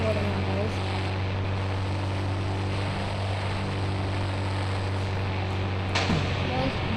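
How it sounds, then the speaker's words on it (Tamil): A Suzuki Hayabusa motorcycle engine runs with a loud, steady low drone close by. The drone holds throughout, and a brief higher sweep rises near the end. "டபுள் இன்ஜின் வண்டி ஹயாபுசா."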